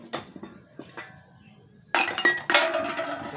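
Collected aluminum cans clink and rattle together, a few light taps at first, then a louder jumbled clatter of metal, close and without talk.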